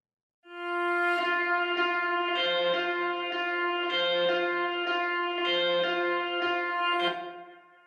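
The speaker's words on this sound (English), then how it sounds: "The intro is basically just a guitar" A guitar intro recorded on its own plays a steady, sustained line of ringing notes with gentle repeated attacks, fairly quiet and alone, fading out at the end.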